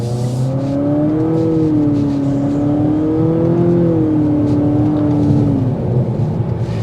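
A 2024 Nissan Altima SR VC Turbo accelerates hard in sport mode; its engine tone climbs and wavers steadily, loud and close from inside the car, with no talk over it.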